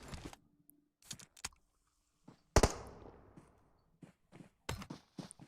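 A grenade goes off in the battle royale game PUBG Mobile, one close, sharp blast with a short rumbling tail. Scattered clicks and quick footstep-like ticks come before and after it.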